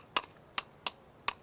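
Four sharp, hollow knocks at an uneven clip-clop pace, like coconut shells struck together to mimic hooves, close and clear.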